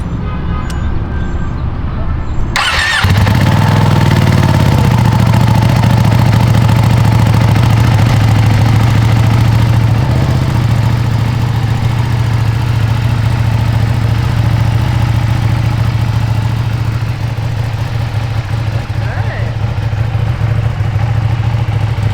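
A Ducati Panigale V2 Troy Bayliss edition motorcycle cranks and fires up after a quiet start, then settles into a loud, steady, close idle that holds to the end.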